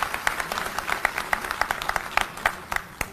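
An audience applauding with scattered, fairly sparse claps at a gathering honouring young and elderly companions, moderately loud and steady for a few seconds.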